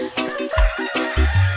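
Farm poultry including chickens, turkeys and geese call up close in a dense burst of clucks, gobbling honks and crowing notes overlapping one another.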